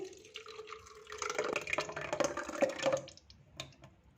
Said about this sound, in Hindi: दही को ब्लेंडिंग जग में डाल देंगे